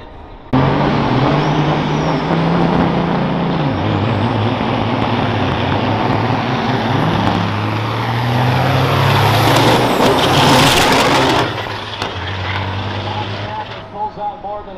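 Bobtail semi trucks, including Elite Diesel in the left lane, roar uphill in a drag race at the 2021 Great Lakes Big Rig Challenge at Onaway, a loud sustained diesel drone with rising engine pitch and a hissing air release, under an announcer's voice.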